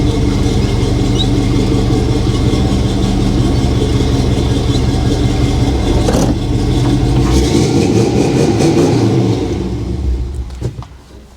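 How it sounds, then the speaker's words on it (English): A 1955 Chevy Nomad's big V8 engine revs loudly up close, a deep throbbing roar that rises and falls before dropping away near the end. "It sounds cool revving."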